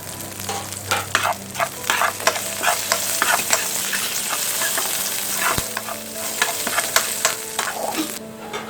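Beetroot and curry leaves sauté in a hot pan, giving a constant crackling sizzle punctuated by repeated scraping strokes of a spoon stirring, plus one sharp knock against the pan near the end.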